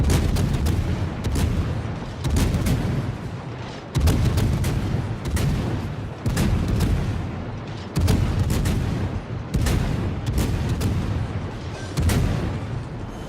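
A Worcester cruiser's guns fire shells in the World of Warships video game: about seven loud, booming salvos arrive roughly every two seconds, each followed by a rumbling decay.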